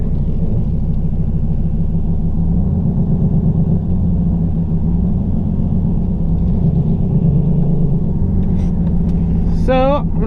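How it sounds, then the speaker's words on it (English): A Mustang with a TH400 automatic transmission driving on the street without boost, its engine a loud, steady low rumble throughout, with a short whistle-like sound near the end. "So I'm just gonna kind of drive the car around, let you guys enjoy the sweet sounds of no boost pulls."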